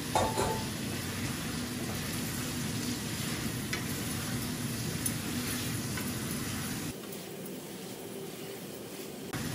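Potatoes sizzle in a frying pan while cooking a jackfruit dish, a steady, close hiss of frying with faint stirring that drops a little in level near the end.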